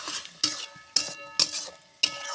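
Chicken being stirred and fried in a pan, with a soft sizzle broken by five sharp, evenly spaced scrapes and clinks of a utensil against the metal, close and clear without speech.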